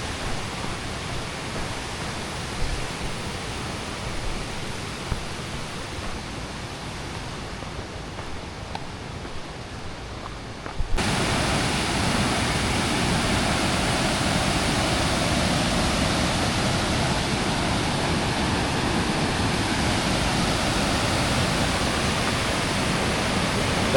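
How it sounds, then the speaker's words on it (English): A small cascading waterfall on the Teton Crest Trail rushes in a steady broadband hiss, moderate at first and then suddenly louder and closer about halfway through, with no talking. "got a waterfall there. Little one. Little cascading joint."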